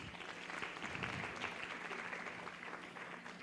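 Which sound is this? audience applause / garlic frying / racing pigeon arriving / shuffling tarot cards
audience applause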